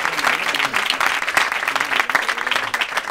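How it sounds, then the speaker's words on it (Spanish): Studio audience clapping on a Spanish comedy talk show, loud and bright with uneven bursts and peaks, steady applause filling the whole moment. "Un aplauso para este chico."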